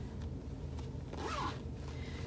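Zipper on the inside pocket of a sewn fabric backpack being pulled, a short, quiet rasping zip in the middle, heard close up in a quiet room.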